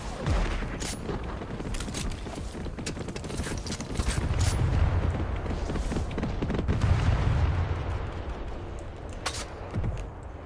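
Air strike grenade explosions in the Fortnite video game: a dense fusillade of blasts and gunfire-like cracks with rumbling booms swelling mid-clip, loud and continuous with no talk.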